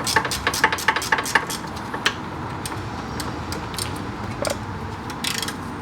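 A socket wrench with a short socket and extension ratchets on a brake bolt of a Subaru Legacy during rotor and pad replacement, giving a quick run of close ticking clicks that slows to a few isolated clicks, with no talk.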